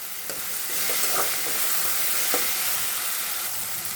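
Steady sizzling of onions frying in a pan, with occasional scraping stirs from a spoon, close and continuous, no talking.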